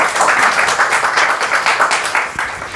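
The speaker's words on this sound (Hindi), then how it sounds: "आप लोग की तालियां बता रहे हैं कि आप लोग भाषण से बहुत ज़्यादा प्रभावित हो गए" An audience claps loudly and steadily after a speech at a Teachers' Day event, many hands blending into a dense patter.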